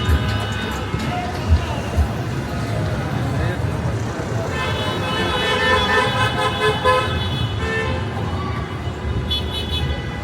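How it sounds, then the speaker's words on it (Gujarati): Car horns toot repeatedly in busy street traffic on Melton Road in Leicester during a crowded cricket celebration, with engines idling nearby and people talking over the steady roadway noise. "તો બધા હવે બહુ જાય છે હોરન મારતા મારતા બધા"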